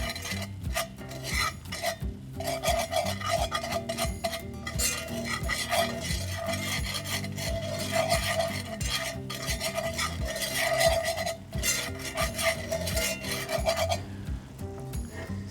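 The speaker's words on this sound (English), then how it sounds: "We're just gonna cook this flour until it's brown, flagrant" Flour browns in a pan for chicken fried steak while a utensil rubs and scrapes it in continuous rhythmic strokes, close and steady for the whole stretch, with no voices.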